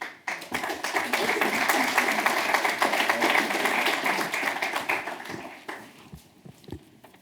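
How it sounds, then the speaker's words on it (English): Audience applause at the London Faith & Belief Community Awards 2019 ceremony, a sustained wash of clapping that fades out near the end, with some faint talk in the room. "We now applaud 7 groups"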